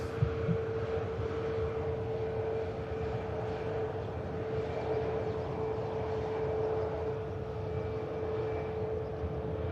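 A Cathay Pacific airliner taxis out at Manchester Airport, its engines a steady low drone with a constant whine, heard from a distance with some wind noise.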